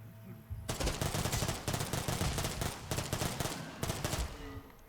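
Submachine gun fire in The Last Stand: Aftermath, loud sustained automatic bursts with brief gaps, starting after a short quiet lead-in and running to the end.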